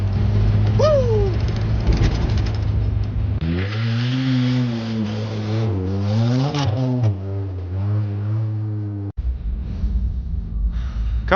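A 1980 Chevy LUV mini truck engine running rough with an unhappy carburetor, a loud close droning hum that surges and wavers unevenly in pitch, briefly cutting out near the end before resuming.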